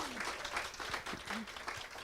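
Audience at a livestreamed mental-health panel claps for a poet's answer, a sustained burst of applause with some faint voices mixed in throughout.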